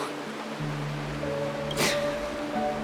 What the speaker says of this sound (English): This is the sound of rain.